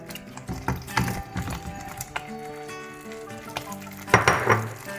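Smoked chicken pieces go into a pan of simmering tomato puree for butter chicken, giving a steady close sizzle with scattered clinks of a utensil against the pan and a louder stirring burst near the end.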